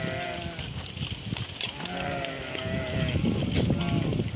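A large flock of roughly 300 fattening sheep with lambs, gathered for sale, bleats continuously, many overlapping calls near and far over a steady crowd murmur.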